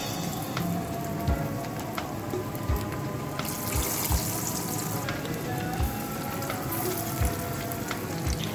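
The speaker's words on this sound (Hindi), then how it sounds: "तेल गर्म हो चुका है, अब हम इसे फ्राई करते हैं।" Marinated masala fish frying in hot oil, restaurant style, a dense continuous crackling sizzle like rain, with occasional low thumps and pops, close and steady throughout.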